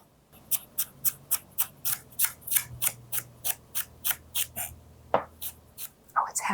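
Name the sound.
mincing celery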